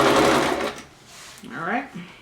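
A sewing machine stitches fabric for an envelope pillow cover in a short burst of rapid mechanical whirring, then fades as a voice talks over the quieter stretch.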